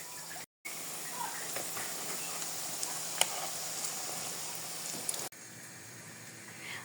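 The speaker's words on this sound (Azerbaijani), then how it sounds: "Bu cür kotletlərimizi yumru formasında düzdük tavaya və hər iki üzünü yaxşıca qızarana qədər bişiririk" Round red lentil cutlets fry in a pan with a soft, continuous sizzle and hiss, a few faint pops rising from the steady bed of sound, which drops off sharply near the end.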